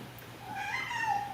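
Domestic cats meowing faintly in the background of a home with six cats: a couple of drawn-out, rising and falling meows, soft and distant.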